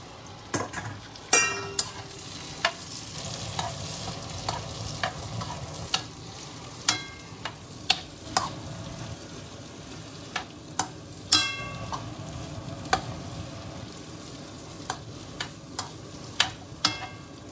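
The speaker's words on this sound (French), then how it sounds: "Une fois que vous avez fait ça, on vient mettre les oignons." Onions frying in hot oil with chili, a steady sizzle running throughout while a utensil stirs and taps the pan in irregular sharp clicks.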